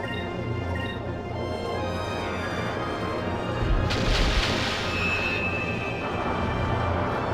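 A ship's cannon firing in the Skies of Arcadia game during a boss battle, a single heavy boom with a rumbling blast about midway through over steady game music.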